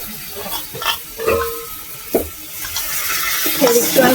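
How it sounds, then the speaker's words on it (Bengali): Water runs and splashes while a bowl is rinsed in a kitchen, a soft uneven trickle with light clinks and knocks scattered through it. "বাটিটা ধুয়ে একটু জল দেবো।"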